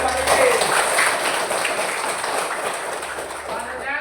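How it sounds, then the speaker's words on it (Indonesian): Applause from students in a classroom for a classmate, steady dense clapping filling the short span at moderate loudness with faint voices mixed in. "Bagus, tepuk tangan buat Titis"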